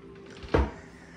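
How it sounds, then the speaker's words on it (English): A coffee table's storage lid opens in a villa living room with a single short, dull wooden thump and creak, heard close and alone. "This coffee table does open up for additional storage below."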